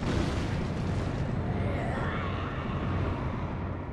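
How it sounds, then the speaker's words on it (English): A blast in the video game Bloodborne, a dense rumbling roar that fills the whole stretch at steady loudness, heavy in the low end and ending in a rolling tail, with no distinct voice. "Don't be around for the explosion."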